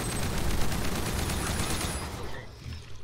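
Video game gunfire in a friendly-fire moment, a dense rapid fusillade of shots that rattles on steadily and loudly for a few seconds, then thins out near the end with no talking over it.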